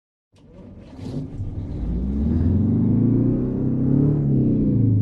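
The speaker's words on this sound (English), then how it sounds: "No idea why it revved up so high" A Ford L-Series 8000 truck engine in American Truck Simulator rumbles up and revs higher and higher, a steady, swelling drone that holds loud to the end with no talking.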